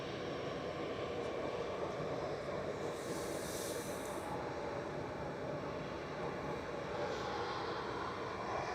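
An EasyJet jet airliner at Manchester Airport gives off a steady, distant broadband roar that carries evenly throughout, with a brief hiss swelling near the middle and no voices.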